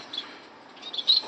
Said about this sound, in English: This is society finch.